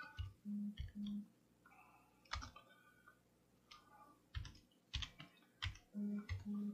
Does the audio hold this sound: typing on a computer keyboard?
yes